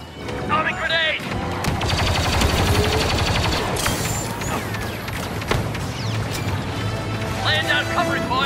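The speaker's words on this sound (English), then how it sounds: "Laying down covering fire!" Sustained covering gunfire in a Star Wars clone trooper game during an assault on a Dreadnought: dense, rapid blaster bursts packed together, with game voice callouts near the start and end.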